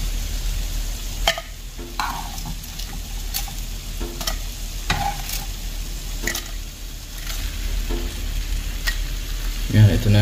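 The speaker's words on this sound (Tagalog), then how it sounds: "luto na po yung ating prinitong isda. Ayan, haluin na natin ito." Steady sizzling of fish frying in a pan for breakfast, with intermittent scraping and clinking as it's stirred, continuous and fairly close.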